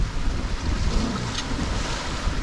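A sailboat on a broad reach across the Sea of Cortez, with a steady wash of water and waves against the hull and constant wind rumbling at the microphone, continuous and fairly loud with no talk.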